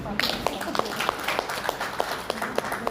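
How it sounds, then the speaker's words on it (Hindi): An audience at a business growth-plan meeting claps for the speaker, a brisk, even burst of many hands filling the room, fairly close and steady throughout. "सर के लिए ताली बजा दीजिए"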